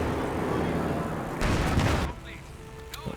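Explosions and artillery-like blasts from a 2v2 strategy video game match, a dense rumbling barrage that swells and then cuts off, followed by a few faint scattered effects.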